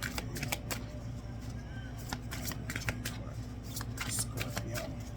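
A deck of oracle chakra cards is shuffled in rapid riffling bursts, a steady papery flutter and snapping close to the listener, under a continuous low background hum.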